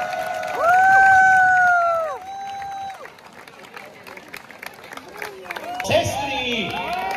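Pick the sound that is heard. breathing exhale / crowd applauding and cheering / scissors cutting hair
crowd applauding and cheering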